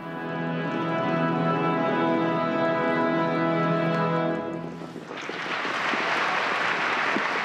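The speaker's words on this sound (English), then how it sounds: "Applause for an act that seems serene and precise, belying the organized chaos just behind the performance" Applause after a ballet in a large theater erupts as a sustained orchestral chord fades, a dense steady wash of clapping from a big audience filling the last few seconds.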